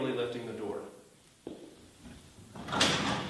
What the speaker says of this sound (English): disengaging the garage door opener by pulling on this red handle and manually lifting the door.